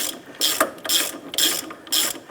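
Ratchet wrench tightening a sway bar link nut on a 2005-10 Jeep Grand Cherokee, four quick bursts of sharp clicking pawl strokes with brief pauses between, close and alone.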